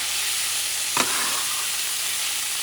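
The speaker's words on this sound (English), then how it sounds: "So you're going to mix everything." Ground beef and rice being stirred in a pan for Puerto Rican arroz con carne molida, with a steady sizzle throughout and one brief scrape of the spoon near the middle.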